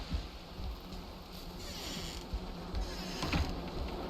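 Bees around a beehive in Valheim give off a low, steady insect buzz, fairly quiet and continuous, with a few light rustling taps layered over it and no talking.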